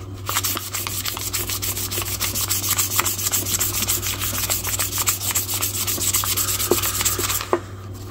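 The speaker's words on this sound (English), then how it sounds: "I'm going to sand that down real quick" A restored J. Martini filet knife being sanded: rapid, rhythmic scratchy strokes repeating back and forth over a steady low machine hum, close and continuous for the whole stretch.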